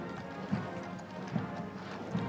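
Horses of the Blues and Royals and the drum horse in a state funeral procession through London, their hooves clip-clopping in a slow, regular rhythm at moderate distance, faint under a steady background hum.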